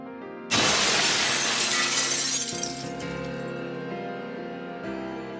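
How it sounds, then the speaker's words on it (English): Glass shattering as a sound effect in a story game, a sudden loud crash followed by a long bright spray of falling shards that slowly thins into a ringing tail over a low background tone. "From somewhere in the distance, the sound of glass shattering echoes."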